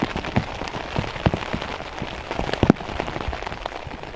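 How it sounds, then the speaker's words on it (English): Steady rain pattering on a tarp shelter at a solo camp during a rainstorm, a dense close hiss dotted with sharper individual drop hits, with no talking. "but just raining, raining."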